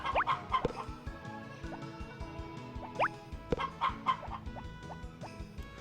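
Several chickens cluck busily inside a coop in the farming game Harvest Moon: Back to Nature, overlapping short clucks and rising calls in quick irregular bursts, moderately loud with no speech.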